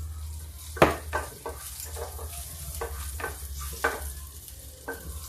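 Cumin seeds crackle and sizzle in hot oil while making a dry bhindi (okra) dish. A spoon stirs and scrapes the pan in irregular clinks over the steady frying hiss.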